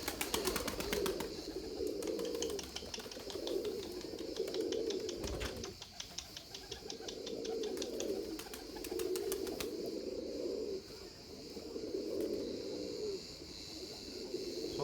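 Erzurum white pigeons coo steadily in a dense flock, low rhythmic throaty calls repeating in overlapping waves, with a brief flurry of wing flaps and clatter partway through.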